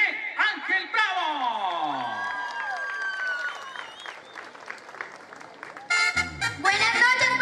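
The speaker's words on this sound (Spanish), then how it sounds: "Vamos a recibir con un fuerte aplauso a Delia Giré Ángel Bravo." An audience at a 2021 song contest final in Puerto Boyacá applauds and cheers for a singer. Steady, loud clapping runs throughout, with whoops and shouting voices over it, swelling into a louder burst near the end.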